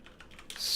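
Quick, light keystrokes on a computer keyboard, a short soft burst of several taps close by.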